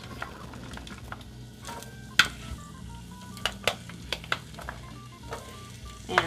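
Green peppers added to an oiled pan, a soft steady sizzle under a scatter of sharp utensil clicks and taps, with a few electronic beeps mixed in; nearby, fairly quiet, no talking.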